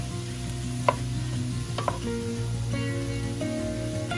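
Onions fry and brown in a pan for goat brain fry, giving a steady low sizzle with a few sharp stirring clicks and scrapes over a constant background hum.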